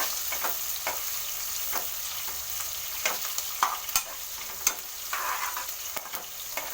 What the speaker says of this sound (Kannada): ಈರುಳ್ಳಿ ಕಲರ್ ಚೇಂಜ್ ಆಗೋವರೆಗೂ ಲೋ ಫ್ಲೇಮಲ್ಲಿ ನೀಟಾಗಿ ಫ್ರೈ ಮಾಡ್ಕೋಬೇಕು.